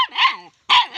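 Hero, a chubby puppy that has grown big, lets out two sharp, loud barks close by, separated by a short silent gap.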